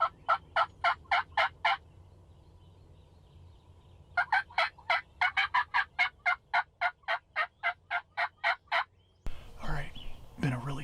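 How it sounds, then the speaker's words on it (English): A wild turkey gobbles in repeated rapid bursts from the bottomland about 350 yards off, two series of sharp rattling calls with a pause between, followed by a brief rustling noise at the end. "we just had a bird start gobbling down on the bottom, about 350 yards away from us"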